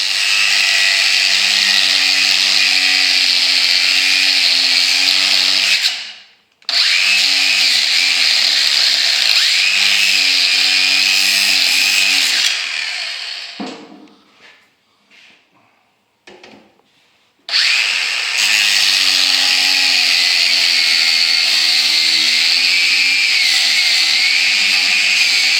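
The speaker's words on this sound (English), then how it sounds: "Ground out and busted off the center." Power tool grinding out the rusted center of a Ford tractor steering wheel, a loud continuous abrasive whine with two short stops partway through, then resuming at full volume.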